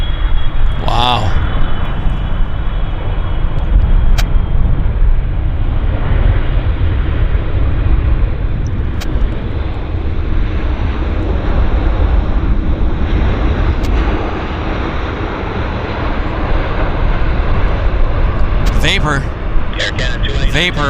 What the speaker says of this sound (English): Blown off the runway from the reverse thrust.